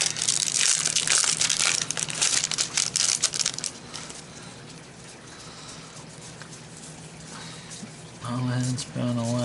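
A Magic: The Gathering Khans of Tarkir booster pack is torn open with loud, close crinkling of foil wrapper over several seconds, then quieter handling, and a voice speaks briefly at the end.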